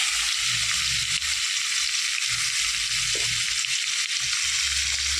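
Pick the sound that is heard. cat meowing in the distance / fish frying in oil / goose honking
fish frying in oil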